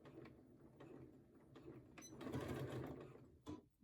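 A sewing machine runs close up, stitching the fabric of a pair of shorts with a steady mechanical whir and clatter that speeds up briefly, then stops near the end.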